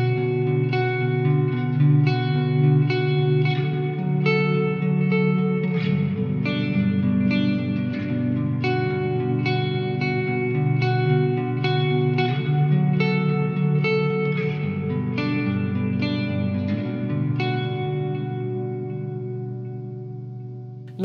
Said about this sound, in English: possibly my favourite clean tone we've ever done, this Ambient Dream preset